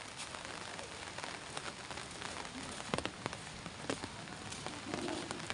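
Rain falls steadily at the seashore, a dense even patter with a few sharper drops, fairly faint and continuous, with no talking.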